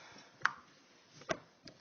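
A knife chops vegetables into a fine dice on a cutting board during home soup canning prep, giving three separate sharp knocks spaced unevenly over a couple of seconds, close and fairly quiet.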